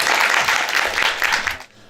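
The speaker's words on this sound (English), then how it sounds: "Can we give them a round of applause?" Audience members at an art school Q&A session give a round of applause: a brief burst of close, dense clapping that fades out quickly at the end.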